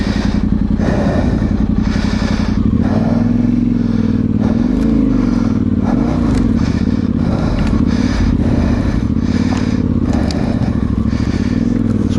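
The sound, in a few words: Yamaha Tenere 700 motorcycle riding off-road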